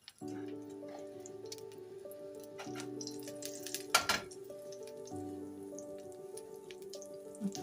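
Cumin seeds tempering in hot ghee for a fish kulambu give a steady, soft crackling sizzle with fine popping, close and quiet throughout, with one brief louder clatter midway.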